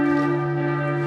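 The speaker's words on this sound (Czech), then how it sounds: "Máme poledne, zvoní tady zvony na kostele." Church bells in Cochem ring out at noon, a sustained loud and close metallic tone with layered overtones that hangs and resonates without any talk.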